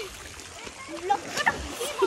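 Water splashes in a swimming pool in short, close bursts mixed with chatter and voices.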